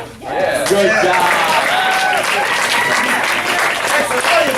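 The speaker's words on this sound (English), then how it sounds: "you're taking a round of applause" A round of applause from the crowd at a martial arts school graduation, sustained clapping mixed with cheering and shouting voices.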